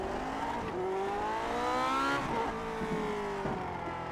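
Race car on a lap of Imola in a racing game, engine revving up and down through shifts with tyre squeal, loud and continuous.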